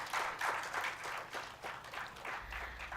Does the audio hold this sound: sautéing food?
no